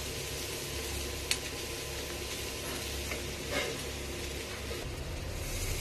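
Steady close sizzling of frying in a pan while making an egg and prawn curry, a continuous hiss with a few faint clicks and a soft utensil scrape, no talking.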